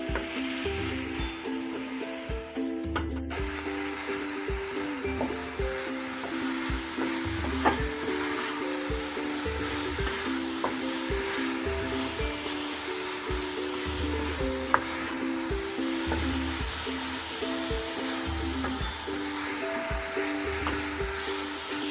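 Fried rice seasoning stir-fried in a pot for Trinidad-style fry rice, a steady close sizzle with scraping and stirring sounds running throughout.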